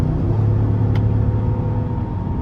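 A 2023 Cadillac Escalade ESV with its 6.2-litre engine being shifted through paddle shifters while driving, heard from inside the cabin as a steady low engine drone and road rumble with a brief faint click, no talking.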